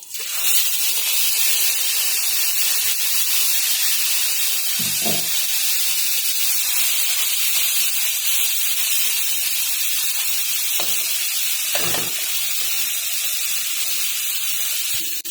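Cumin and mixed spices fry together in a hot pan, giving a steady, loud hiss and sizzle throughout with a few brief clinks or stirs, close up and with no talking.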